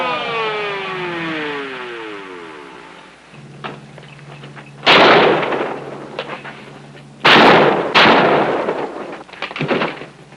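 Men fire guns in a staged stakeout shootout: a few sharp, loud gunshots ring out in separate bursts, with a car revving away in the moments before.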